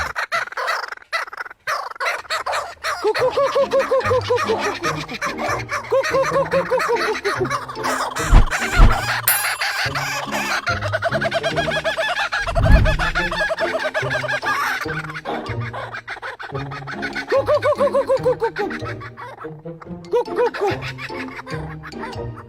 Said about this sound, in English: Kookaburra fight.